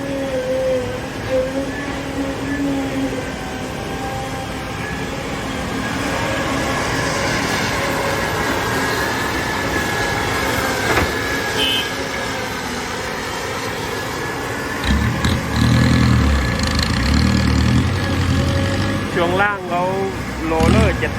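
A digger's diesel engine, from an IHI IS 200 and Kobelco SK 200-8 pair working hard red soil, drones steadily and close, swelling louder near the end, while someone talks over the machinery.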